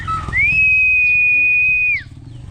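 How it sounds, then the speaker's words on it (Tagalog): A person whistles one long, steady high note, rising at the start and dropping at the end, over faint background chatter. "Hindi ka ba ito marunong sumipol?"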